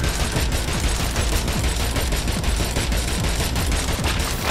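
Rapid, sustained gunfire from the video game Agents of Mayhem crackles loud and unbroken, with dense overlapping shots and no speech over it.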